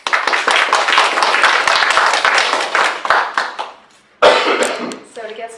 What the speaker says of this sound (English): I'd like us to welcome our presenter in response today with a round of applause